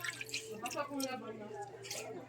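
Water poured into a pot of eel adobo seasoned with vinegar, soy sauce, salt and MSG, a soft wet splashing and dripping under continuous talk.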